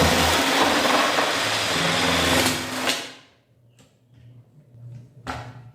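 A jigsaw attachment driven by a drill saws through soft pine wood, a loud dense buzzing rasp for about three seconds that then cuts off, leaving faint clatter and a brief knock near the end.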